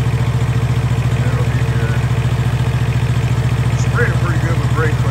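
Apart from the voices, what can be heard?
truck APU engine running, burning oil off exhaust pipes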